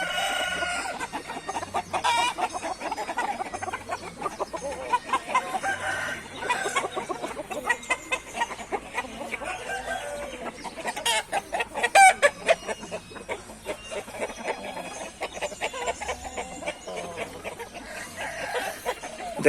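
Thai fighting cocks cluck and crow close by in a steady, busy chorus, with sharp bursts of clucking and a few louder crows breaking through.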